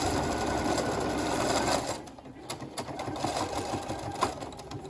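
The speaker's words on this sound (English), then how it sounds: "I'm gonna edge stitch around the top of the mask and I will be done." Sewing machine edge stitching around the top of a fabric face mask, a steady close whirring run that stops, followed by short stitching bursts and back stitching.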